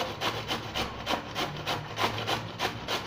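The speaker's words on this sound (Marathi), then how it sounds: "हे असं आपण किसून घ्यायचे चांगली बारीक अशी मस्त असे आपले मंचुरियन होतात" Cabbage grated finely for Manchurian, a close, steady rasping scrape repeated in a quick back-and-forth rhythm, about three strokes per second, with no talk.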